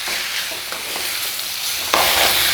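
Red chilli chicken sizzling loudly in a hot pan while being stirred, a steady dense frying hiss with soft scraping of the spoon, growing louder near the end.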